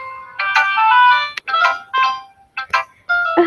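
A mobile phone ringtone plays a bright electronic melody in repeated short bursts with brief gaps, loud and close with no talk.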